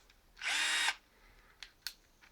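A Bosch GSR 12V-15 FC cordless 12V drill-driver whirs in one short, close, high-pitched burst of under half a second, followed by a couple of faint clicks.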